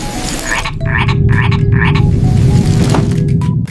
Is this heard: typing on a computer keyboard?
no